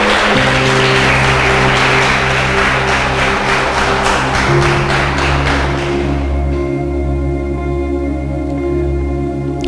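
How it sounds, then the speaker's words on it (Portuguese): Congregation in a church applauding together, a dense wash of clapping over sustained organ or keyboard chords that carries on after the clapping thins out. "Aplauda o Senhor Jesus por isso."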